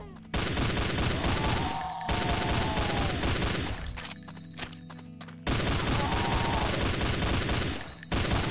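Rapid bursts of gunfire in the Half-Life mod Cry of Fear, sharp repeated shots in volleys with a brief lull in the middle before firing resumes, loud and close, no voices.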